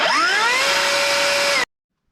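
A FLEX cordless rear-handle circular saw runs free, its motor spinning up with a rising whine into a loud steady high-pitched drone, then stopping sharply after about a second and a half.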